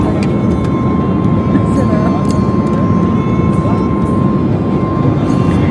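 Steady, loud airliner cabin roar during a flight from Delhi, a broadband engine and air hum with a faint tonal whine, continuous and unchanging throughout with no clear speech.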